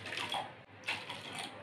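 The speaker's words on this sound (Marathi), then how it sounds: "डाळीचं सर्व पाणी काढून घेतले" Water from boiled chana dal, cooked for puran poli, pours out as the dal is drained, giving a soft continuous splashing trickle with a brief break in the middle.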